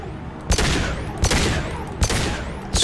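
Single gunshots from a pistol in the sci-fi shooter game Mass Effect 2, four sharp loud reports spaced evenly under half a second to a second apart, each with a short booming tail.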